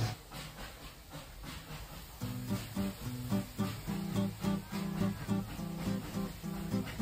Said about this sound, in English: a small steam engine pulling mini coaches up the steep mountains